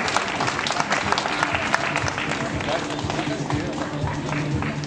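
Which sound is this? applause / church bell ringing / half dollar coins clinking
applause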